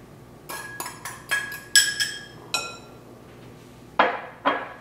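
Garlic, sage and parsley are stirred together in a bowl, heard as a quick series of bright, ringing clinks of a utensil against the bowl, close and distinct with short pauses and no talk.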